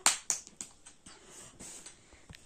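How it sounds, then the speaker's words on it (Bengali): At home, children clap a few sharp, separate claps, loudest at the start, then softer scattered taps fade out quietly. "হাততালি দাও মাম্মাম, হাততালি দাও দাদাকে।"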